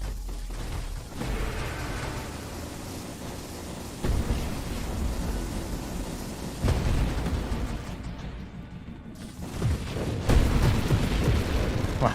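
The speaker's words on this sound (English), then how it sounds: "that explosion from them dying took out all the other enemies" Enemy ships bursting apart in the space shooter Nova Drift, a dense run of booming blasts with sharp surges near 4, 7 and 10 seconds over constant rumbling game noise.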